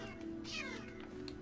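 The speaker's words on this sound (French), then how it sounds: "Miaou. Vous pouvez écouter les sons" An ocelot meows in the video game Minecraft, one drawn-out, fairly faint meow standing alone over a steady low game hum.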